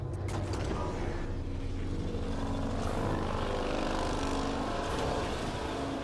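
Low grinding and creaking of a stone bridge mechanism rising out of a lake in a video game, a steady loud rumble with scraping texture running throughout, no talk.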